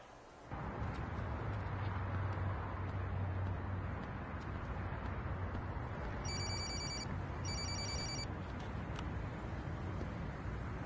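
A telephone rings with an incoming collect call, sounding two clear electronic ring bursts over a loud, steady rumbling background.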